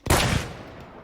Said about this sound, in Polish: Strzały z shotguna na daleko są słabe.